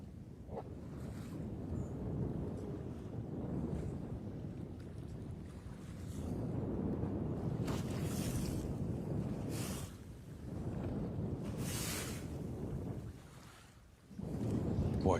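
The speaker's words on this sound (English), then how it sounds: "with the way that wind's gusting up" Gusting wind buffets the microphone on open water at Lake Champlain, swelling and easing in waves of low rumble with brief louder gusts, alongside faint water wash and no talking.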